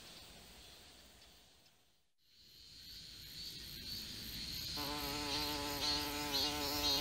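Isodontia harmandi wasp buzzing outdoors in a sustained, fairly loud hum that briefly dips then swells again, with a steady high-pitched tonal drone in the later part and no talk.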